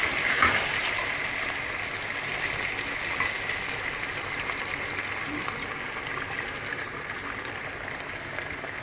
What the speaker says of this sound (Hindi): अब हम इसके अंदर ऐड करेंगे अपनी यखनी।